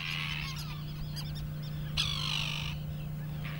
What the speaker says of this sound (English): The common tern also nests on the island.